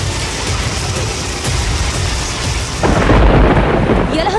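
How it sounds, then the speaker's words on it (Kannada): A hailstorm in Bengaluru brings a dense, loud roar of rain and hail with low rumbling thunder, swelling heavier toward the end. "ಕೆಆರ್ ಮಾರ್ಕೆಟ್, ಯಲಹಂಕ, ಬನಶಂಕರಿ, ಗಿರಿನಗರ ಸೇರಿದಂತೆ ಹಲವು ಕಡೆ ಆಲಿಕಲ್ಲಿನ ಮಳೆಯಾಗಿದೆ."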